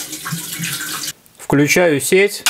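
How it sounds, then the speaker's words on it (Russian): Water pours steadily into an autoclave pot to sit a few centimetres above the jars, a brief close rushing stream that stops abruptly before someone speaks. "наливаю воды сантиметра на 2, на 3 выше уровня банок"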